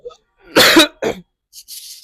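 A sharp, loud cough, then a shorter second cough, followed by faint breathy sounds.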